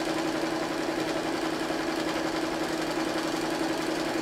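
A sewing machine runs steadily while top stitching a side tie cushion, a continuous even mechanical hum and rapid needle chatter, close and fairly loud, without pauses or talk.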